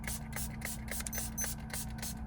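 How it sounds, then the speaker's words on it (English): A spray bottle spritzes cleaner onto a Rivian touchscreen, a rapid series of short, soft hissing puffs in quick rhythm, close and fairly faint over a low steady hum. "I'm just spraying the screen while it's on"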